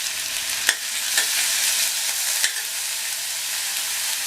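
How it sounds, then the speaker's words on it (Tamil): Finely chopped onion frying in oil in a pan for paruppu urundai kuzhambu, a loud steady sizzle broken by a few sharp scrapes of a spoon stirring, close up with no talking. "இந்த வெங்காயம் நல்லா வதங்கி வரட்டும்."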